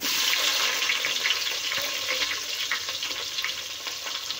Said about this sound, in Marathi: आता घालूया कांदा